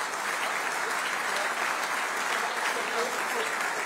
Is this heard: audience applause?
yes